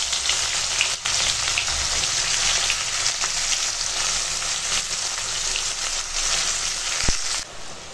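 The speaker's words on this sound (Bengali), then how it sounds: "এখন ফোড়নে দিলাম তেজপাতা, এবার দিয়ে দেবো কেটে রাখা পেঁয়াজ।" Chopped onions and a bay leaf sizzle loudly in hot oil, a steady dense crackle across the whole stretch with a brief clatter near the end and no talking.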